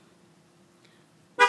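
A single short honk from a Ford F150 horn, loud and close, sounding after a long quiet stretch as the tire pressure sensor learn step is confirmed.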